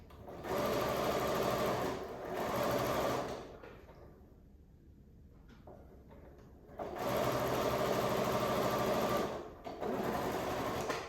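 Sewing machine stitching a quarter-inch seam on a scrappy square-in-square quilt block, running loud and steady in two long bursts with a quieter pause between them.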